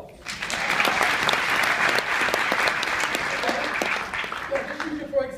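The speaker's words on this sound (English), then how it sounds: "Let's give her a round of applause." An audience at a talk on residual income gives a round of applause. The clapping is dense and sustained for several seconds, then thins and begins to fade, with a voice coming in near the end.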